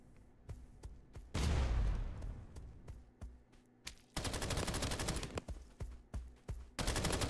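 Bombs exploding in the video game Escape from Duckov: heavy bursts of blasts and rapid crackling detonations in clusters, loud and close, separated by quieter stretches with sharp clicking shots.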